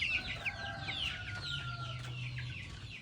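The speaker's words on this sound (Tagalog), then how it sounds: "tinan mo yung manok doon. Diyan siya na nangingitlog." A hen clucks repeatedly on a farm, with rapid close calls over a faint background hum and a low steady drone.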